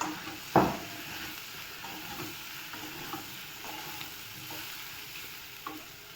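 Fried soybean chunks tumble into a hot pan of oil spiced with turmeric, a short loud sizzling burst near the start, then a steady low frying hiss with faint stirring clinks.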